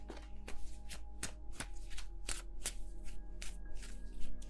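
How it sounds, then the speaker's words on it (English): Tarot cards riffled and shuffled by hand in a quiet room, giving a run of crisp, close snapping flutters with short gaps between bursts. "Can I please shuffle my cards?"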